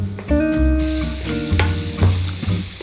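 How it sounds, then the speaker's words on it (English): Onion and garlic fry and get stirred in a pan for a tomato sauce, with a close, steady sizzle and scraping stirring noises throughout, no talk. "Meanwhile, we can make our sauce, frying an onion and garlic."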